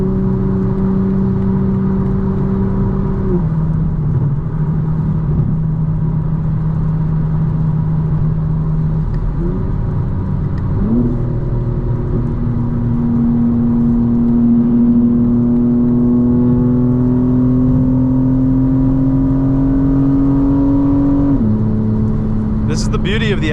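A 2025 BMW M4 Competition xDrive drives on the road at sunset, its engine humming steadily and rising in pitch through the gears, with clear shift drops and a sustained mid-range drone beneath occasional talk.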